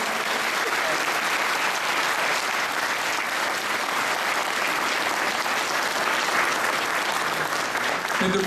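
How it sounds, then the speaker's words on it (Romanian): Steady, dense audience applause at a Christmas concert, loud and sustained throughout with no break or talk over it. "aplauze pentru dânsii"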